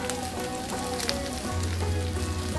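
Jackfruit seeds fry in a pan with a loud, steady sizzle and crackle that continues unbroken, along with a low hum partway through; no one speaks.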